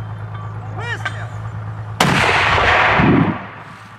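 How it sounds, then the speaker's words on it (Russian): A single loud gunfire or artillery shot during the Russian offensive on Debaltseve in Sanzharivka, a sharp blast followed by a rumbling echo that fades over about two seconds, with a brief voice before it. "Выстрел!"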